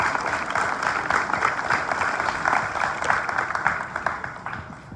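Audience applauding an AFSP charity fundraiser crowd, a steady wash of dense clapping that holds at even strength for about five seconds before easing slightly at the end.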